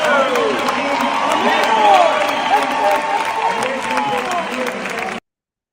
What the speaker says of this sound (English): Round of applause for all of you guys